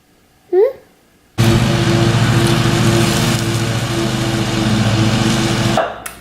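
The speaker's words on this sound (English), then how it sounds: "finishing mowing the lawn and leaf blowing at the same time" Lawn mower and leaf blower running together outside, a loud, steady broadband motor drone that starts abruptly, holds for several seconds and cuts off near the end, with a brief voice-like sound just before it begins.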